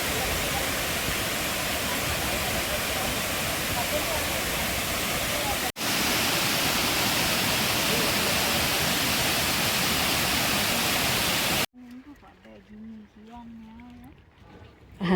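Waterfall at Horton Plains National Park in Sri Lanka: a loud, steady broadband roar of falling water fills most of the clip, with a brief dip partway through, then cuts away to a voice talking over quieter surroundings.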